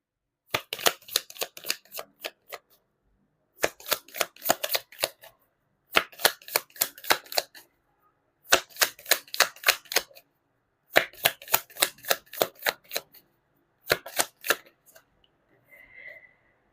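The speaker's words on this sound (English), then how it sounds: "You saw me shuffle." Tarot card deck being shuffled, six separate bursts of rapid riffling clicks separated by short pauses, close and fairly loud with no talking over them.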